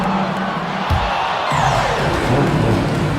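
A large crowd in the basketball video game NBA 2K25 roars and cheers loudly, swelling in waves with whoops rising over the noise, as if filling an arena.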